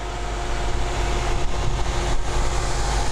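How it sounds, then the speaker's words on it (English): A 2015 Ford Mustang GT Premium exhaust gives a steady, deep rumble with a dense low roar, constant and fairly loud throughout, with no voices. "let's do an exhaust sound on the Mustang."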